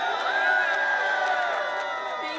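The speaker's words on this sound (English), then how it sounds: "Please give her a round of applause." A crowd at a public advocacy rally on healthcare cheers and whoops for a couple of seconds, loud and sustained, with voices shouting over the noise.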